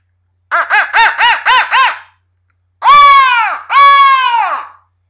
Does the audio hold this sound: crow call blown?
yes